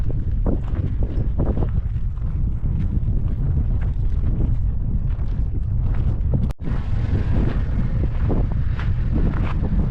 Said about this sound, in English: The wind's really blowing.